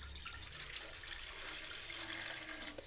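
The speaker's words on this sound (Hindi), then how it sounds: "तो इसमें मैं पानी डालने लगी हूँ।" Water poured steadily into a cooking pan at the start of making rice and carrot kheer, a continuous, fairly soft rushing stream with no talk.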